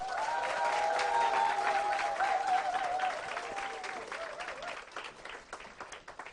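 Audience applause welcoming a speaker at a Nu Skin network marketing training event, steady crowd clapping that thins toward the end, with a voice talking over the start.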